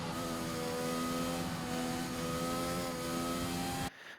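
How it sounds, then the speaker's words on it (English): A race car in a video game powering out of a chicane to full throttle, its engine a loud, steady, rising whine held close for about four seconds before cutting off abruptly. "getting onto the throttle on the exit"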